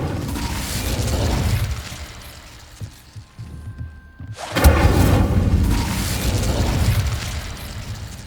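An Incendio fire spell in Hogwarts Legacy goes off as one sudden booming burst after a quiet lull, then a loud roaring rush of flame that carries on under a low rumbling wash.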